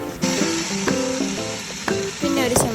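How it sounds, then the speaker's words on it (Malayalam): Capsicum sautéing in hot sunflower oil for chicken mandi, a steady close sizzle with repeated stirring clatters and scrapes against the pan, loud and continuous with no talking. "ആ ക്യാപ്സിക കൂടി നമ്മൾ ഈ സൺഫ്ലവർ ഓയിൽ ഇട്ടിട്ടൊന്ന് വഴച്ചെടുക്കണം"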